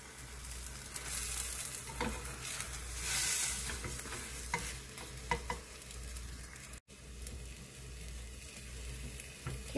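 An egg and zucchini omelette sizzles steadily in an oiled pan while it is rolled up, a continuous frying hiss with faint scraping from the turning, and no voices.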